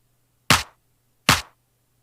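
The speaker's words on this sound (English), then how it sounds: "Then put them together and it sounds like this." Layered electronic clap and snare hits from a drum and bass beat, punchy full-bodied strikes landing about every 0.8 seconds, each with a short tail, two complete hits and a third starting at the end.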